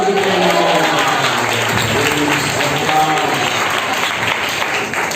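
A church congregation breaks into loud, sustained clapping, a dense, continuous patter with a voice faintly audible beneath it.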